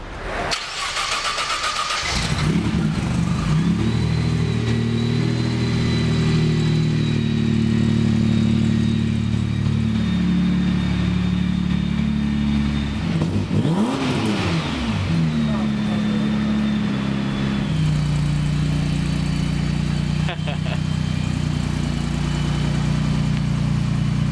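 A modified Nissan GT-R engine runs loud and steady for the whole stretch with a strong low rumble, surging sharply in revs around the middle before settling back into a heavy idle.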